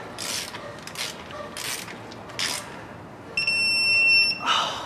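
Torque wrench snapping on the last transmission pan bolts of a 65RFE in a RAM truck, with several short broadband clicks in a row, then a steady high-pitched tone near the end.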